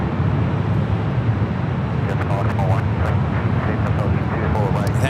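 Jet airliner engine roar at Los Angeles airport on the north side, a steady broad rumble from a departing plane, likely an Airbus A320neo, heard from nearby while a person talks over it throughout.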